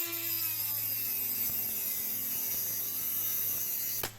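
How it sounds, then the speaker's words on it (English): Threaded aluminium housing of an RC shock being trimmed down for an ICON 4x4 FJ44 replica, a steady close grinding or cutting drone with a low hum and scraping strokes that run continuously, then stop abruptly near the end. "So I trimmed down the threaded housing from an MRC shock."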